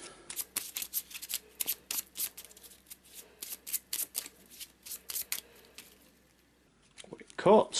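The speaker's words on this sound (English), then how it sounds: "Quick shuffle" Eldritch Horror board game cards shuffled by hand in a quick run of crisp riffling bursts, then a brief pause and a louder final flick.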